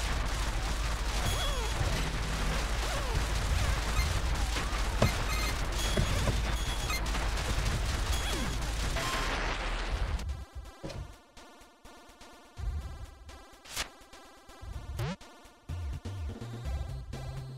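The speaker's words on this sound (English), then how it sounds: "Firing rapid shot rockets everywhere." Rapid-fire rockets launching in a video game city rampage, a dense, loud barrage of blasts and crashes for about ten seconds, then thinner scattered impacts and tonal game sounds.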